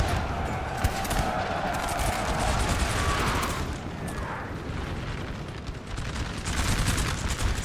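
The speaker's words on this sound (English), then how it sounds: "there's artillery from France set up in a beautiful position on the other side of this hill. Just, it's shooting basically over the French infantry's heads" Artillery booms and musket fusillades roll across a Napoleonic battlefield in Napoleon Total War 3, a dense, continuous wash of distant gunfire and rumbling reports with no clear gaps.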